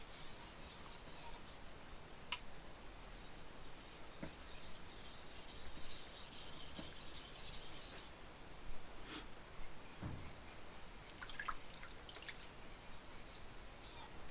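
Knife blade stroked across a sharpening stone, heard as soft, close rasping passes with a few light taps and scrapes, quiet and steady with no talking.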